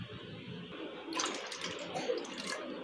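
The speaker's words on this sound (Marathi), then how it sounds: "तर इथे मी बरोबर त्याच वाटीने पाणी ॲड करत आहे।" Water poured from a small bowl into chana dal (split chickpeas) in a pot for Maharashtrian katachi amti, a brief splashing pour that swells midway and continues steadily, close and fairly quiet, with no talk.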